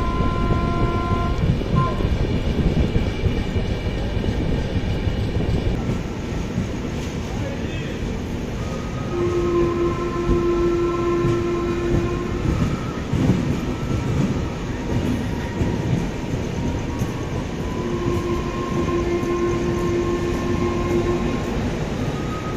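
Pune–Santragachi Humsafar Express rumbles steadily along in third AC, a continuous low roar of wheels and carriage with faint tonal hums, heard from inside the moving train for the whole stretch.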